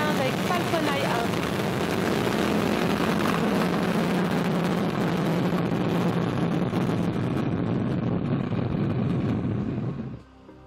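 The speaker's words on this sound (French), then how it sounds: "Allumage P80 et décollage VV15 avec Falcon Eye 1." A Vega rocket launch, flight VV15 carrying Falcon Eye 1, with the P80 first stage igniting and lifting off. A loud, continuous crackling roar rumbles for about ten seconds, then cuts off abruptly.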